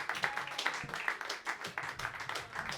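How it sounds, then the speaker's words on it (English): Live audience at a comedy roast battle show bursts into sustained clapping and applause, dense and steady across the room with no talk over it. "But start clapping right now"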